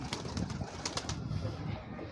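Pigeons in a loft cooing softly and repeatedly at close range, low throaty calls with faint rustling and no clear speech.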